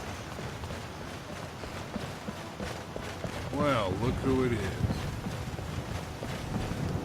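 A horse's hooves clip-clop at a steady trot along a path in the video game Skyrim, a rhythmic patter under ambient noise while a character speaks briefly partway through.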